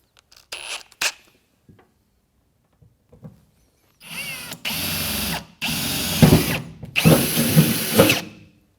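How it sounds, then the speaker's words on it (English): A power drill bores pilot holes into a truck bed in several bursts of high whirring, each running a second or so with short gaps, preceded by a few faint clicks and handling knocks. "And now we'll drill our pilot holes."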